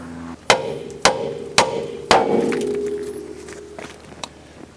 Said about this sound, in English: So now I'm going to try to hit the other side with the hammer